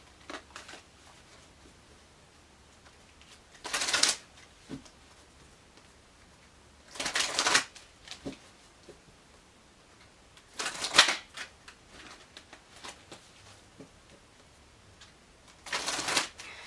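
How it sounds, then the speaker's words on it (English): Oracle cards shuffled and pulled during an Archangel Oracle reading, four separate bursts of crisp riffling and flicking spaced a few seconds apart, close and fairly quiet with near silence between them. "Let's pull your Archangel Oracle card."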